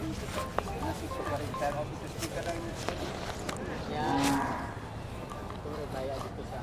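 A cow or carabao lets out a loud, drawn-out moo among livestock, with people chatting and footsteps nearby at a cattle market.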